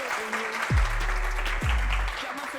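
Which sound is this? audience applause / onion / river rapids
audience applause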